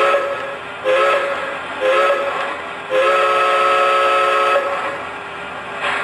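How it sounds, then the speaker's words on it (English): A Lionel LionChief Plus Mikado model steam locomotive sounds its whistle in three blasts, two short and then one long sustained tone, loud and near over a steady background hum. "let's go ahead and have some fun with the Lionchief Plus remote, starting with the whistle."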